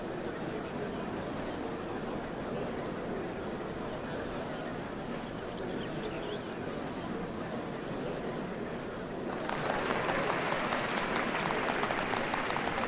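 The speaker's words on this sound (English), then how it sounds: "What a crowd! As befits the changing of Dawnservants." Crowd cheering and applauding at a ceremony for the changing of Dawnservants in Final Fantasy XIV, a steady wash of clapping and voices throughout that swells louder and brighter in the last few seconds.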